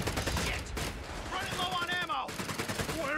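Gunfire from Panzer Grenadiers in the Company of Heroes 3 strategy game: rapid, continuous rifle and machine-gun bursts crackle throughout, with a battlefield din and a voice talking over it.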